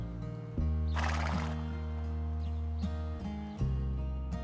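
Horse neighs in a loud, shaking whinny near the start, with a few hoof clops scattered through, set against a sustained musical backdrop with no talking.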